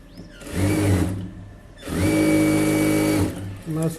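An electric sewing machine stitches a blouse in two long, fast runs separated by a pause, then gives a short final burst, loud and close.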